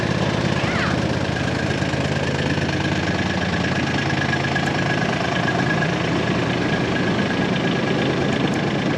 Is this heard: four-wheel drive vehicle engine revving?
yes